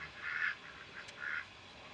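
Two raspy duck quacks sound nearby, a short pause between them, over quiet outdoor background.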